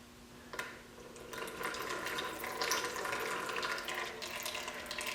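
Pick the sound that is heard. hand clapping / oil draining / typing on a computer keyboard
oil draining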